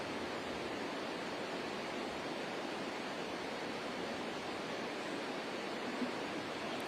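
A loud river rushing close by, a dense, unbroken roar of flowing water that stays steady with no voices and drowns out any other sound.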